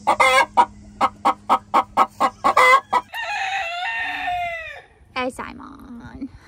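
Lavender Orpington chickens cluck in a quick, evenly spaced run of about a dozen close calls, then one draws out a long, wavering crow-like cry, followed by a couple of softer clucks.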